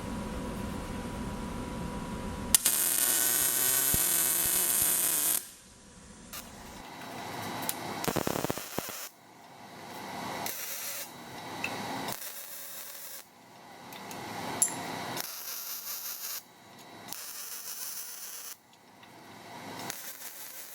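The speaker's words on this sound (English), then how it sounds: "I'm going to go through and weld all the joints solid on here" Harsh, crackling electric welding bursts in several separate runs with short pauses between them, steady hiss under each, no talking, welding metal joints solid with a Harbor Freight Vulcan Omnipro 220 welder.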